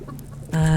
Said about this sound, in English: Don't get too close to the chicken after he's eaten all these onions.